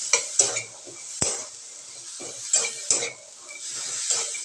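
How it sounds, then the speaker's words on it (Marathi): Coconut and garlic roasting in a pan, stirred in several separate scrapes and clinks of a spoon against metal over a soft sizzle, close by and fairly quiet, no talking. "हे फक्त आपल्याला चांगलं गरम करून घ्यायचं आहे खोबरं आणि लसूण."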